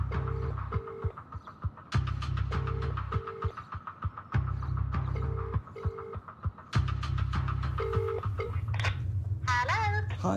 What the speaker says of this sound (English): Only the winner's phone will ring.